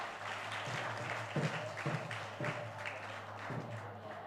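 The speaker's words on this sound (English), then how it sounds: "Big round of applause for them." Applause from the audience after a drama performance at a festival gathering, a steady moderate wash of clapping with a low hum beneath and a few louder taps, fairly distant.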